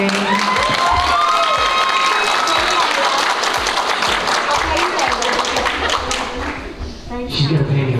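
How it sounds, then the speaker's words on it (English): A convention crowd applauds and cheers loudly and steadily for guest actress Gigi Edgley at a Star Trek fan Q&A, with dense clapping, whoops and voices blending throughout before easing slightly near the end. "you guys give a big round of applause to the cutest guest star we ever had"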